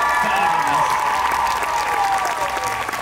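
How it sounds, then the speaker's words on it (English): A large crowd at a Disney fan expo costume contest applauds and cheers loudly and continuously, a dense wash of clapping with whoops and raised voices throughout. "let's give them a round of applause right now"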